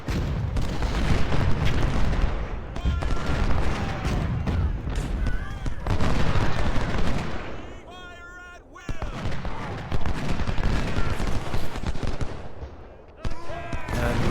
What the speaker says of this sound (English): we can get Schaefer to start opening up on the cannons, which are causing us all sorts of trouble